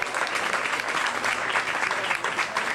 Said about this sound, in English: Let's have a nice round of applause for John.